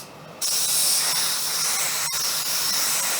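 A spray gun comes on abruptly and lays down Glasurit 90 line lacquer, a loud continuous close hiss of atomised paint that holds steady with one brief break near the middle.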